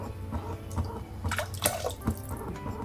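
Oil is poured into dough for Telangana-style garelu appalu, a soft, close liquid trickle with faint dripping, quiet and with no talk.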